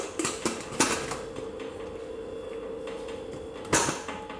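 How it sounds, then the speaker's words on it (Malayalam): A metal pressure cooker lid clanks as it is set onto the cooker over mutton mandi, with a few sharp close knocks at the start and another clatter near the end, and a low hum in between. "കുക്കറിൻ്റെ മൂടി വെച്ച് കൊടുക്കുക."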